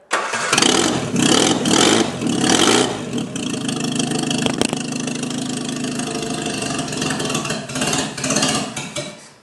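A Whitby Morrison ice cream van's engine runs loud and close, with a few surging bursts at first, then settles into a steady, rough running note that holds to the end.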